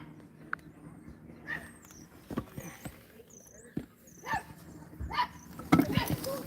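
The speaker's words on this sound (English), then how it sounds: "Ooh, I see a dog. Hear a dog." A dog barks outdoors by a football field, several short sharp yaps spread irregularly through the stretch, fairly close, over a low background hum with a voice talking briefly.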